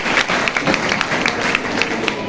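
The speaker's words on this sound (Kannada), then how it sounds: "ಒಂದು ದೊಡ್ಡ ಚಪ್ಪಾಳೆ ಸರ್ಗೋಸ್ಕರ" Audience clapping at a children's Aksharabhyasa ceremony in the Sharadamba temple of Shankara Matha, Gangavathi: a short burst of scattered claps and hand hits, moderately loud, under steady room noise.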